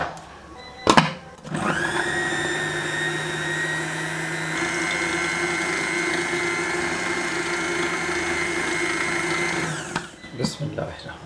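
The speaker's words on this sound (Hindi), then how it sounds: "इसको अब हम ब्लेंडर जार में डाल देंगे और अच्छे से ब्लेंड करेंगे यहाँ तक कि ये क्रीमी यानी चीज़ से क्रीम ना बन जाए" A kitchen blender whirs steadily for about eight seconds as it blends homemade cream cheese, with a short clatter before it starts and after it stops.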